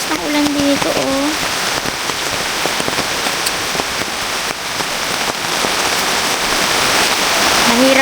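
Heavy morning rain drums steadily on a campsite, a dense, loud, unbroken hiss with scattered sharper drop impacts, and a voice speaks briefly at the start and end.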